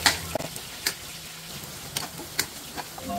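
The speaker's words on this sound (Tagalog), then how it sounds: "una natin gigisayin ng luya, isusunod natin yung sibuyas" Ginger, onion and garlic being sautéed in a pan, a steady close sizzle broken by several sharp scraping clicks of a spoon stirring against the pan.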